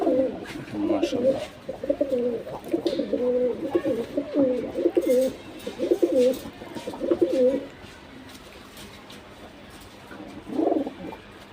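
Pigeons, a male and two females, coo in repeated rhythmic bursts close by, pausing and then resuming briefly near the end, while a person speaks a word over them.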